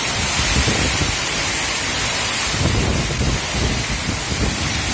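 Loud, continuous roar of strong typhoon wind and heavy rain on an island, a dense rushing wash with gusty surges throughout and no voices.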